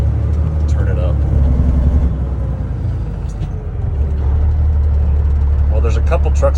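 A semi truck with nearly 700,000 miles and its original manual transmission cruising on a highway, a loud, steady low diesel drone filling the cab, with someone talking over it.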